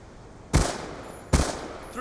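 QBB light machine gun without FMJ in Black Ops 2, firing two sharp, loud shots about eight-tenths of a second apart, each a brief blast with a short tail.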